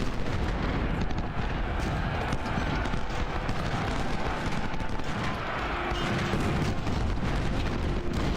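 Infantry volley fire in the Ultimate General Civil War strategy game at Second Bull Run, a steady, dense rumble of massed musketry and distant booms, moderately loud and unbroken throughout.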